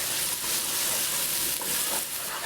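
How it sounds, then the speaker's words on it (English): Ginger garlic paste fries with onions in a pan, making a dense continuous sizzle with faint stirring, close and steady throughout with no voices. "We'll mix that in until you can't smell the sharpness of the ginger and garlic."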